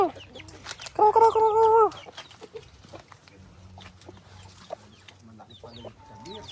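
Chickens on a chicken farm cluck and squawk in short bursts, with one loud drawn-out call early on, followed by scattered softer clucks and shuffling; faint voices murmur in the background.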